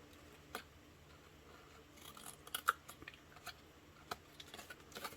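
Paper flaps on a handmade gift box being trimmed with scissors, a few quiet, separate snips spread over a faint, steady background hum.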